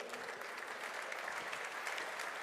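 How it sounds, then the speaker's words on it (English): An audience at a motorcycle trade show press conference claps in steady, dense applause that continues evenly throughout. "A big applause, please."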